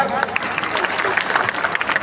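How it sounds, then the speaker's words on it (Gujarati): Loud applause from a crowd of students at a school Guru Purnima celebration in Mehsana, a dense, steady patter of many hands clapping nearby with a little crowd murmur underneath. "એટલે ખરેખર એના માટે જોરદાર તાળી ફરી એક વખત"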